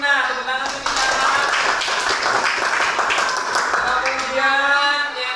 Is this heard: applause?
yes